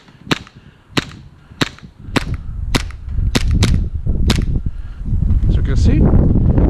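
An airsoft Glock 17 pistol fitted with an AceTech Lighter tracer unit fires about nine sharp, loud snapping shots in an uneven rhythm, followed by rising rumbling noise and handling sounds.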